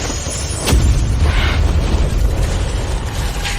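Human voices imitate gunfire and explosions, producing loud, dense booming bursts that overlap into a continuous, chaotic barrage with a few sharper blasts standing out.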